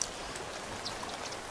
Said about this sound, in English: Sounds like it's raining now.